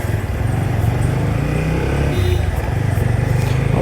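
A new Apache motorcycle is ridden with a steady, close, throaty engine rumble that holds an even drone throughout, with slight swells in revs and no pauses.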